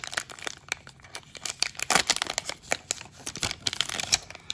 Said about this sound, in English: So, final pack, and let's get that Acuna